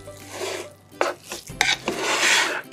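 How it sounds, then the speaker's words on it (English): A plastic spatula stirs and scrapes chicken rice inside a rice cooker pot. The scraping and rubbing is close and textured, with soft knocks against the pot. "So I don't want to damage my rice cooker, and so I'm just gonna use a plastic spatula"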